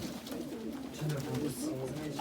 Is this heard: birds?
yes